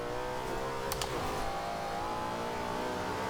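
A 2013 Ford Shelby GT500 with a V8 engine revs in the Forza Horizon 2 racing game, giving a continuous, droning engine note that rises and falls steadily without a break.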